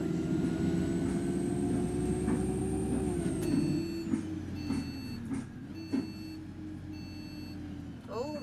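Simulated Enviro200 MMC bus engine labouring uphill in the OMSI 2 game, a loud droning rumble that sags in pitch midway, with intermittent clicks and clunks and someone speaking over it.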